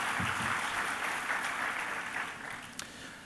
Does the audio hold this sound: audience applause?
yes